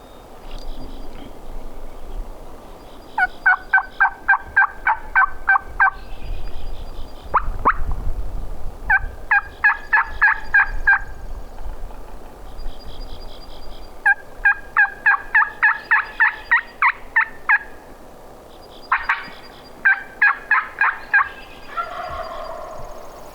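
A wild turkey gobbles repeatedly on public land in South Dakota, loud rattling bursts in clusters separated by pauses, fairly close and clear over a quiet outdoor background.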